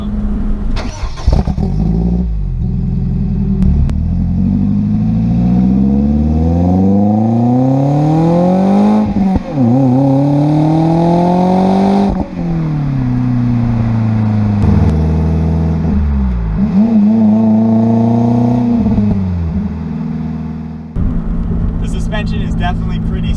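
A 2014 Lotus Elise S Cup R engine and exhaust while driving, loud and close, revving repeatedly through the gears with rising pitch sweeps, brief shift dips and a throaty exhaust note.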